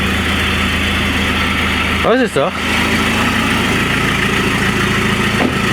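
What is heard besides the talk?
Citroën C5 engine revving without exhaust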